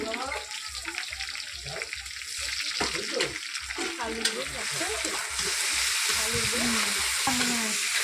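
Prawns and chopped banana flower fry together with onion in a pan: a steady, close sizzle with scraping stirs throughout, under a voice talking.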